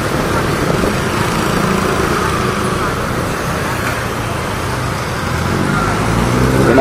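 Cars idling in stopped city traffic at a stoplight on the road from Ortigas to Taytay, a steady dense hum of engines and road noise heard close and continuous throughout.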